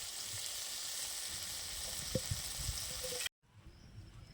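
Karonda fruit fries lightly in a pan with a soft, even sizzle and a few faint knocks, then cuts off abruptly into quiet room tone.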